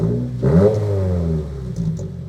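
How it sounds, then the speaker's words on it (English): Stock 2022 Subaru WRX engine blipped with a couple of light revs, a mid-pitched burbling rise that swells near the mic and then settles back toward idle. "Give me a couple little baby revs."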